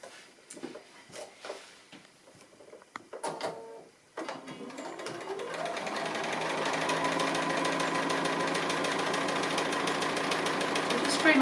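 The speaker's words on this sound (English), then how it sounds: "Just free motion stitching just close to the edge" A sewing machine runs steadily through free-motion stitching on an appliqué, starting after a few seconds of handling noises and building to a continuous close mechanical whirring hum.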